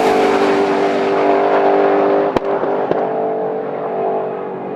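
Shelby Mustang accelerating from inside the cabin, a loud sustained engine roar that slowly fades, with two sharp clicks partway through.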